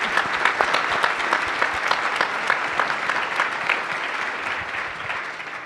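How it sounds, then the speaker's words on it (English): Audience applause for a panel at a water infrastructure event, a dense, sustained round of many people clapping, loud and even throughout with individual claps audible, no talk over it. "let's give a round of applause to our fabulous panel"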